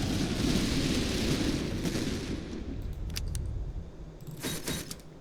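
Booming artillery explosions in the video game Master of Command, a deep rumbling blast that fades, followed by a few sharper distant cracks of fire.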